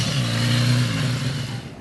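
A BMW S1000RR superbike screams along a race track, its engine holding a loud, steady high-revving drone for under two seconds, with nothing else heard over it.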